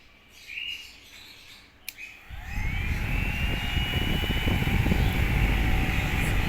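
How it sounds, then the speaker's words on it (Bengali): A small 12V DC electric fan whirs up to full speed after a couple of seconds of quiet, settling into a loud, steady broadband rush with a faint whine. "ফ্যানের সাউন্ড হয়তো আপনারা শুনতে পাচ্ছেন"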